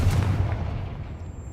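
A fiery Confringo spell blast from the Hogwarts Legacy video game lands as one booming burst that fades away over about a second and a half.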